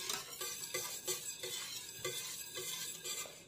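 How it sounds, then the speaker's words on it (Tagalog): Fresh milk is stirred in a pan for Filipino maja blanca, a utensil scraping in a steady repeated rhythm, close and moderately loud with a faint sizzle beneath and no voices. "Yan, halo natin."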